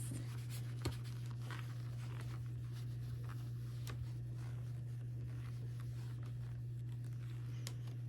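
Erasing and writing on a board, faint scratchy strokes and soft rubbing taps in an uneven rhythm, quiet and close over a constant low electrical hum.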